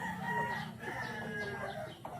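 Chickens at a rural home cluck and murmur close by, several overlapping calls in a soft, continuous chatter.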